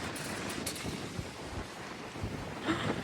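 Strong wind in Malta rushes and buffets the microphone in a steady, noisy roar with occasional gusts and no voices.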